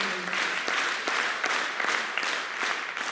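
Steady applause from a concert audience at an ensemble performance, a dense, even wash of clapping that fills the whole stretch without letup and with no talking over it.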